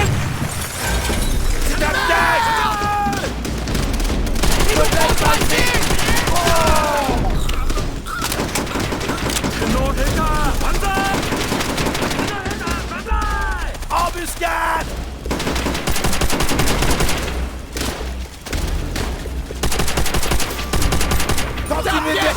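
Dense rapid gunfire crackles through an ambush in the video game Call of Duty: World at War, with machine-gun bursts, loud shots and shattering impacts, and voices shouting over the battle.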